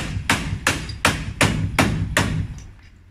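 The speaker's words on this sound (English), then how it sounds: "Hammer, there's a hammer here." A hammer strikes a trailer under repair with seven sharp, evenly spaced blows about a third of a second apart. Each hit is a close, loud, solid thud with no talking.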